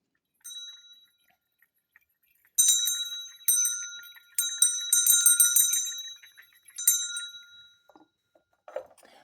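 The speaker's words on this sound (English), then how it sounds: "there's going to be a loud bell sound coming out of here" A bright bell rings out loudly several times in bursts, with sustained metallic tones and quiet gaps between strikes; no one speaks.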